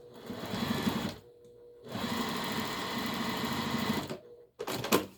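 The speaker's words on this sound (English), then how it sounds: "Sew the edge just a little bit. Flip it over, right? And sew it again." A sewing machine stitches along the edge of a fabric apron in two steady runs, pausing briefly between them and ending with a short burst, close and clear with no talking.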